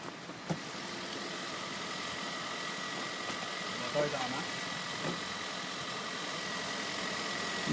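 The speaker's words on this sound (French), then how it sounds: "Le moteur est en marche en ce moment." Kia Niro 1.6-litre four-cylinder engine idling under an open hood, a low steady hum with faint mechanical ticking, fairly quiet throughout with a few brief knocks.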